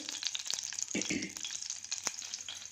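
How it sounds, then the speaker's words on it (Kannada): Oil heats in a cooker pot on a stove, giving a soft, crackling sizzle with a few scattered pops and light stirring clicks, fairly quiet and alone. "ಸ್ಟವ್ ಆನ್ ಮಾಡಿ ಕುಕ್ಕರ್ ಪಾತ್ರೆಗೆ ಒಂದು ದೊಡ್ಡ ಸ್ಪೂನ್ ಎಣ್ಣೆ ಹಾಕಿದ್ದೀನಿ"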